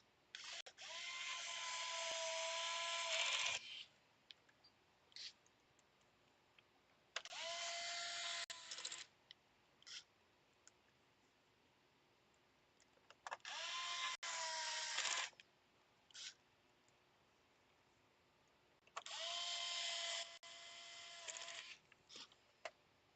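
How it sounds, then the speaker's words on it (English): A small electric screwdriver drives screws into a PS5 console during a repair, four separate bursts of high buzzing whir, each a few seconds long with quiet gaps between, heard close. "I'm just gonna put a few screws."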